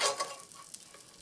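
Sausage pushed and worked down in a hot pan with a spatula, giving a short burst of scraping and sizzling that starts loud and settles into a quieter frying hiss with a faint tick.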